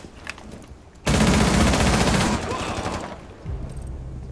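Close, loud burst of automatic rifle fire in Rainbow Six Siege, a rapid stream of shots lasting over a second that tails off into a few scattered reports, followed by quieter ambient rumble.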